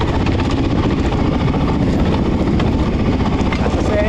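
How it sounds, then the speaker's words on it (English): A Suzuki DRZ400 motorcycle roars steadily and loudly while riding across the Mojave desert, the engine drone dense and unbroken with wind buffeting, and no voices on top. "I cannot narrate while I ride on a motorcycle."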